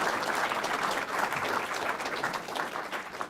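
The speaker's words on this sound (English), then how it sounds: "Everyone, give them a round of applause." Continuous applause from the audience at a film festival award show, an even wash of many hands clapping at moderate loudness throughout.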